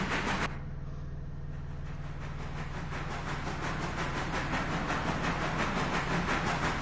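Freight train engine in Railroader hauling about 430 tons with a worn engine, a steady low rumbling drone with rhythmic chugging pulses and a brief hiss at the start, alone without talk.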